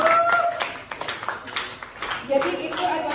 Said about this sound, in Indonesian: Tepuk tangan buat Adnan.